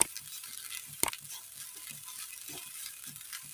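Grated coconut dry-frying in a pan on the stove, a steady soft sizzle and hiss with light scraping stirs and one sharp clack of a spoon against the pan, close and alone.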